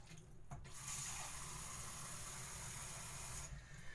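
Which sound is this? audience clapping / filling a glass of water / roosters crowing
filling a glass of water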